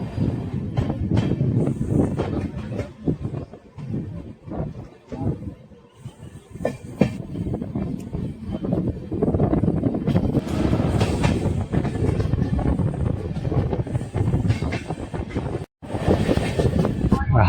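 Danapur–Jogbani Intercity Express, an LHB-coach train, pulling out of Hajipur station, with steady rolling rumble and rattling carriages, wind buffeting the microphone, and faint background voices throughout.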